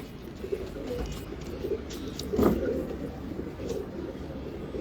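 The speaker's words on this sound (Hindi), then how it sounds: "बहुत अच्छा कबूतर है" Breeder pigeons of Khalifa Ghulam Mustafa's stock coo softly in a loft, low murmuring calls blending into a noisy background with one slightly louder burst midway.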